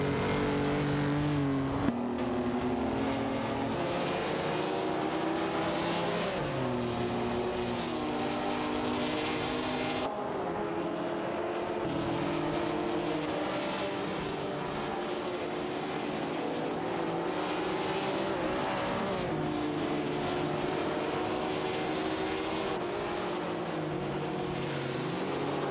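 Race cars in an AI racing series run and jostle for position on track, producing a continuous, dense engine drone whose pitch rises and falls as several cars overlap.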